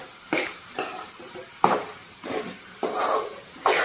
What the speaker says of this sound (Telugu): మధ్యలో ఒకసారి కలదిప్పుకుందాం కర్రీ అనేది